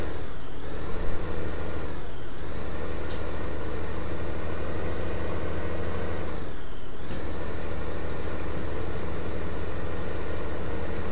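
Tractor engine in the farming video game Farming Simulator 2015, a steady loud low rumble that keeps going without a break, with two brief dips in tone as it works, and no voices.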